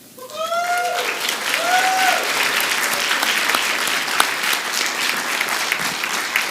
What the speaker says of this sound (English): certainly want to applaud them as well